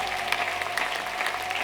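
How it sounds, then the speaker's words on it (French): Congregation clapping at a prayer marathon meeting, a brief steady burst of many hands applauding together in a reverberant hall, with no speech over it. "Applaudissons très bien pour le Seigneur des Seigneurs"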